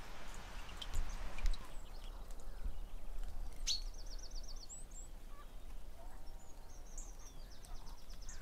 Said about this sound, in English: I'm so excited to have birdsong back.